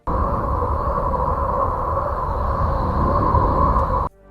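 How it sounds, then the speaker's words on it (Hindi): Voyager electromagnetic data from Uranus converted to sound: a steady, hollow roaring drone with a low whistling tone on top, like wind in a vacuum, continuous for four seconds before cutting off. "नासा के वॉयेजर से मिला ये डेटा इसको साउंड वेव में बदला तो हमें यूरेनस से आने वाली"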